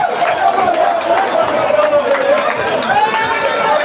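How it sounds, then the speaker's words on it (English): Fans at a pool semi-final match clap and roar in a steady, dense wall of crowd noise, with lots of hand claps and excited babble blending together at close range. "You can hear the roar of the fans clapping so much for Herbert because of the shots that he has just produced."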